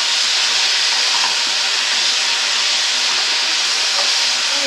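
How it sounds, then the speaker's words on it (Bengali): Green chilli, onion and tomato fry with kasuri methi in hot oil for a Bengali fish curry, giving a loud, continuous close sizzle and hiss that stays steady throughout with no voices. "কাঁচা লঙ্কা, পেঁয়াজ আর টমেটো একসঙ্গে কসুরি মেথি দিয়ে তেলে আমি ফোড়ন দিয়েছিলাম, দিয়ে ভালো করে কষিয়ে নিতে হবে।"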